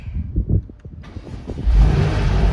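A crash-damaged BMW M2 Competition engine starting for the first time: a brief starter churn, then the engine catching and settling into a loud, steady, close idle with no voices.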